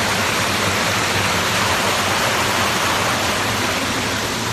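The Jabron river in the Drôme flows through its steep, enclosed riverbed with a steady, loud rushing wash of water, constant and without speech.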